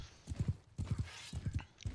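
Horse hooves in the video game Mount & Blade Bannerlord, a rhythmic galloping clip-clop in repeated triple beats, fairly faint and close, with brief gaps between strides.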